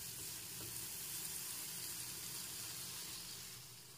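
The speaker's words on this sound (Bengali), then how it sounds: "মশলাটাকে কিছুক্ষণ কষিয়ে নিতে হবে" Spice paste with ginger-garlic paste sautés for a Bengali rohu kasundi fish dish, giving a faint, even hiss that holds steady throughout.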